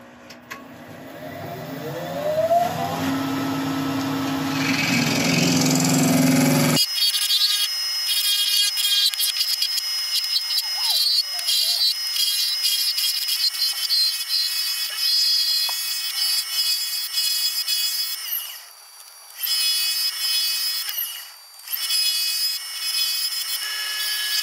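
Wood being shaped on a woodturning lathe, a loud continuous scraping cut that shifts pitch and drops out briefly a few times, with no talk.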